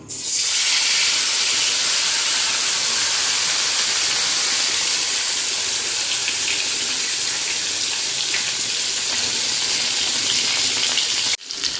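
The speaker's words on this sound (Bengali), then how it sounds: "এদিকে তেল গরম হয়ে গেছে এবার আমি ছেড়ে দেব" Spice-marinated fish fries in hot oil with a loud, unbroken sizzling hiss that runs steadily for several seconds before cutting off near the end.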